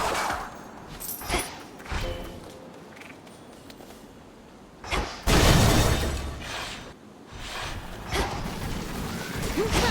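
Glass rock shattering in the video game Hades II, several sharp cracking breaks with a heavy crunching smash midway, set among game effects and background music.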